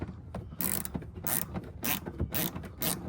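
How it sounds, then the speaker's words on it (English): A ratchet backs a large screw out of a 2014-2018 Toyota RAV4 headlight assembly, giving close, rapid clicking in repeated bursts of a few pulls each with short pauses between. "let me back this out. This ratchet's good for certain things,"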